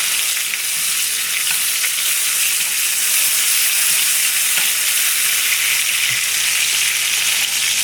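A New York strip steak sears loudly in a hot pan with garlic and a rosemary sprig, a dense, continuous, close sizzle and spatter while fat is spooned over it.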